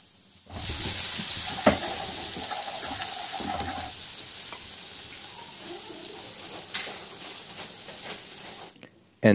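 Chopped ginger and garlic fry in leftover oil for masala chicken, a steady, close sizzle and hiss that holds evenly throughout with a few brief clicks.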